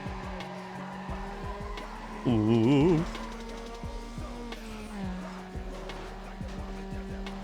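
Car engine in NFS Underground racing game revving steadily with a brief sliding, squealing skid midway, under light background music, while a man gives a short exclamation.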